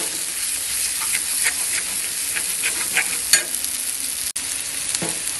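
Onions and egg frying in a pan while being stirred, a steady hissing sizzle with repeated light scrapes and one sharp knock near the end, close and without speech.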